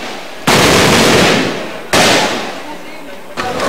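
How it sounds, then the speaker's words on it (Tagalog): Loud gunfire bursts between soldiers and MNLF fighters in Zamboanga City, with two sharp, heavy volleys followed by a third starting near the end, each decaying into a rattling crackle. "Martes, September 10, muling nagkabarilan ang magkabilang panig."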